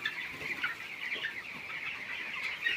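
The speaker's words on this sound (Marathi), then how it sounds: "आपले पक्षी आहेत बघा" Chickens in a poultry farm shed, about 4488 birds in a 30 by 200 foot building, cluck and chatter in a dense, continuous murmur, moderately quiet and steady throughout.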